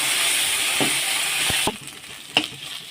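Ginger and garlic fry with a steady, close sizzle in a pan while a spoon scrapes and taps through it in a few sharp knocks, and the hiss drops lower partway through.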